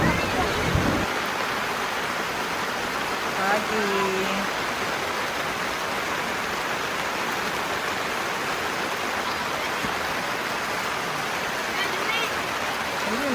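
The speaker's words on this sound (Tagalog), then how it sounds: "Lakas ng ulan." Heavy rain pours steadily on a camp at Taytay Falls, a dense, constant hiss across the whole stretch, with a brief voice near the start.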